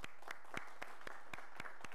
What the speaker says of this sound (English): a big round of applause to Yancey for staying late